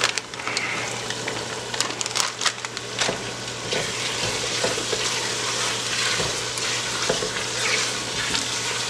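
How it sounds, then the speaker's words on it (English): Jollof rice fries in a pot as carrots, corn and green beans are stirred in, giving a moderate, continuous crackling sizzle broken by scraping and clacking stirs, with no talking. "We're gonna go ahead and mix all of this up."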